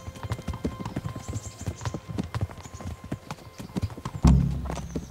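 Horse hooves clip-clopping steadily as a rider travels in Kingdom Come: Deliverance, a regular rhythmic gait close up, with a heavier thump near the end.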